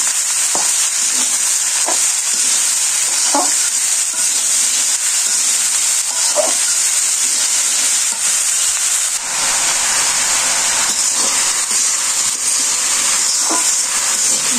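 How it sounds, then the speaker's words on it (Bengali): Fish and chunks of bottle gourd fry in a pan, giving a steady, loud sizzle and hiss with soft scraping stirs at irregular intervals throughout, with no talk. "তারপর মাছগুলো দিয়ে দিলাম, নাড়াচাড়া দিয়ে লাউটি দিয়ে দিই।"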